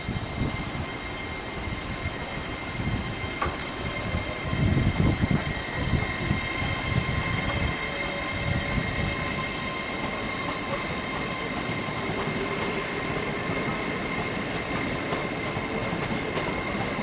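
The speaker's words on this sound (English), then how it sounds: "This train is formed of 5 coaches." Train at a platform in Edinburgh station, with a steady rumbling, hissing mechanical drone and faint tonal hum, plus a brief clank around five seconds.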